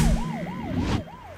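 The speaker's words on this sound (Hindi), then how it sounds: "ये तो एम्बुलेंस है।" A loud ambulance siren wails in a rising and falling pattern, repeating about four times, then cuts off abruptly near the end.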